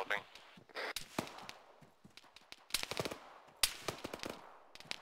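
Scattered gunshots and short bursts of rifle fire in a tactical shooter game crack out at close and middle range, with quieter gaps between them and voices talking in between.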